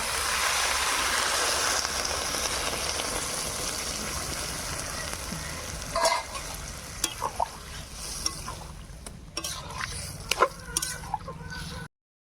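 Water poured into a pan of fried lentil dumplings (bori) for a Bengali pui mituli ghyat, a steady rushing, sizzling wash that fills most of the clip before thinning to scattered drips and clinks, with no talk.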